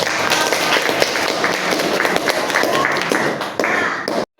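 Students in a classroom clap together in a dense, steady burst of applause that lasts about four seconds and then stops abruptly.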